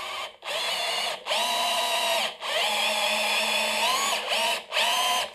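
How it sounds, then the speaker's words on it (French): A Bosch 18-volt cordless drill bores into insect-infested wood in several loud, close bursts of whining motor, each run pausing briefly before spinning up again. "je suis monté sur une perceuse des 18 volts"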